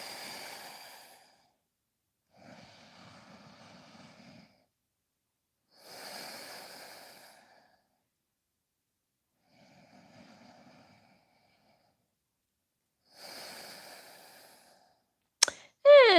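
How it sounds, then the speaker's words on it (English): Slow, steady breaths in and out through the nose during a yoga session, each long soft breath separated by quiet gaps, close and gentle, with a short sharp noise at the very end. "breathing through your nose"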